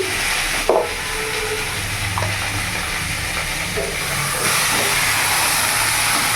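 Mixed vegetables frying in a pan give a steady broadband hiss and sizzle, close and even, with a few faint clinks of stirring and no talking.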